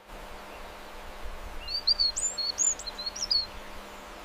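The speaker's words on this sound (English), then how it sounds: "Wild canaries produce strong vocalizations for communication." Wild canary singing, a quick series of thin, bright chirps and twittering notes that starts partway through over a faint steady hum, fairly soft and alone with no voices.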